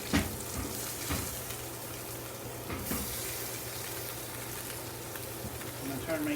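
Salmon searing in a hot pan, a continuous close sizzle and hiss with occasional light clinks, steady in level from start to finish.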